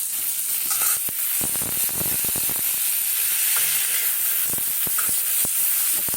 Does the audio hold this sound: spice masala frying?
yes